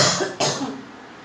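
A woman with a cold coughs at home, two quick harsh coughs close to the microphone, the second sharper, then a fading breathy tail.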